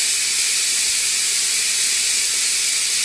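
A pressure cooker releases its steam through the rapid vent once the beer-braised beef ribs finish, producing a strong, unbroken hiss, loud and near, that continues evenly throughout.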